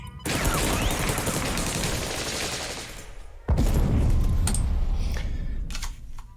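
Artillery fire in the card game KARDS bursts out as dense, loud rolling gunfire in two long barrages separated by a brief gap, with scattered sharper cracks.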